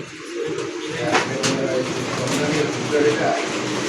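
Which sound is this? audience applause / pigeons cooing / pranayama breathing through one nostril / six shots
pigeons cooing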